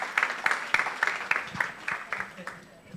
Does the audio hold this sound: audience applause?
yes